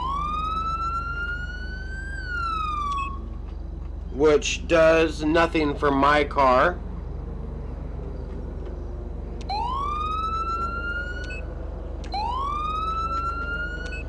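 A police car siren in the LSPDFR video game rises in long electronic wails, then switches to a fast yelping pattern before the wail returns twice, with someone talking over parts of it.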